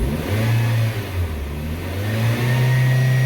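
A Chevrolet Spark M300 engine held at raised revs after a thermostat and upper hose replacement, a loud steady drone that dips briefly and then climbs again, heard up close with no talking.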